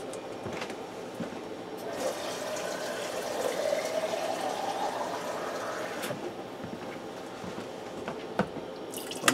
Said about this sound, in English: I'm going to fill this jar with water.